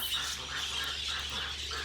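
Ducks or geese call in a short burst of nasal, quacking honks, moderately distant and somewhat faint against a steady background hum.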